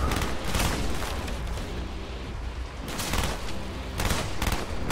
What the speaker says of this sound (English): time to go back to the long range gun here